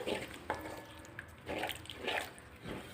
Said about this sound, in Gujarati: આપણે એની અંદર પાણી એડ કરી દેવાનું છે